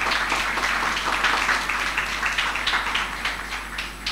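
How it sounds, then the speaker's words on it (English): An audience claps for a student during a lecture demonstration, steady even applause at moderate distance lasting the full few seconds, with no voices over it. "Please clap for her."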